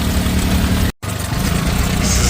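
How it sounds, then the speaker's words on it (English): A John Deere 3020 diesel tractor runs at a plow day, its engine chugging in a steady, loud, low throb with a brief cut near the middle before the running sound resumes. "John Deere 3020 diesel. That one's loud."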